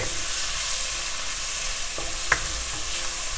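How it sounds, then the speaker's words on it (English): Thin spinach leaves fry in a pan over low heat for spicy fried rice, a soft steady sizzle with a few brief scraping stirs of the spatula, close and moderately quiet, without speech. "Greens leaves get cooked very fast, especially this green is very thin leaves."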